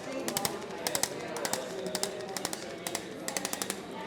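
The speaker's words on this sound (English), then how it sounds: "we're going to start out with a little bit of percussion in the spine" A percussion massage gun tapping along the spine at a chiropractor's, coming in short rapid bursts of sharp repeated taps separated by brief pauses, close and fairly loud.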